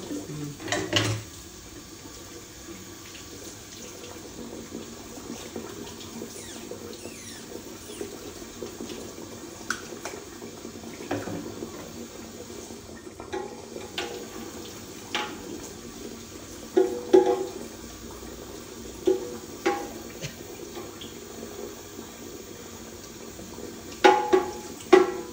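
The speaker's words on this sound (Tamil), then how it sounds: "உள்ளேயும் தண்ணி பிடிச்சி கழுவு" Tap water running while vessels are washed at a sink, a steady low wash of flowing water with intermittent clinks and knocks of utensils, growing louder toward the end.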